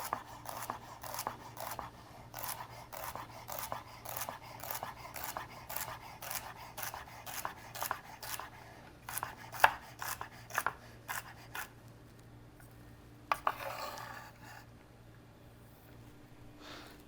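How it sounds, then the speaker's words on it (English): A kitchen knife rocks back and forth through celery stalks, dicing them small with a rapid, steady series of crisp chopping taps that pause near the end, close and fairly quiet. "Then I'm just going to rock the knife back and forth and get my small dice."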